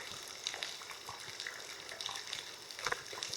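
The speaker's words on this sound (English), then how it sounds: "Let's go check out this dripping water." Water dripping and trickling through sandstone rock on a gorge hiking trail, a steady wet patter of scattered drops and splashes, fairly close, with no talk over it.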